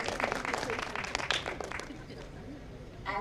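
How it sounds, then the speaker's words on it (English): Faint applause from a conference audience at a scientific session honours an emeritus professor, thinning out after about two seconds before a voice begins speaking. "A round of applause for sir as well."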